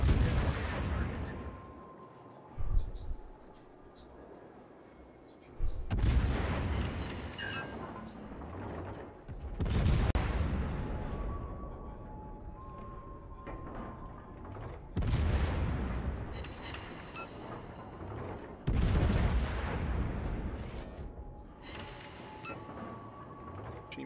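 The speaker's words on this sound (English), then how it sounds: "Concentrate fire on the target." Naval guns firing in World of Warships, heavy booming salvos arriving every few seconds in repeated bursts, each followed by a rumbling decay, loud and close with faint game chatter underneath.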